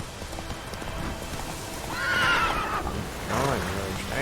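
Roach the horse in The Witcher 3 gallops with steady clip-clop hoofbeats and lets out a loud whinny partway through, with game sound around the hooves.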